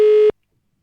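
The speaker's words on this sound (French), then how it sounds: "J'ai de nouveau cette petite sonnerie." A short steady electronic tone on a telephone line during a live radio call-in broadcast, one continuous beep of about a third of a second that cuts off abruptly into silence.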